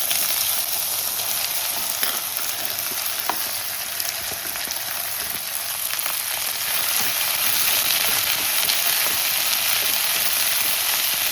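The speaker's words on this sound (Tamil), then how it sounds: "இப்போ கட் பண்ணி வச்சுருக்க கோவக்காய் இதில் போட்டுக்கலாம்" Cut ivy gourd frying in hot oil, giving a steady, dense sizzle that holds loud and even throughout, with faint scraping as the pieces are stirred.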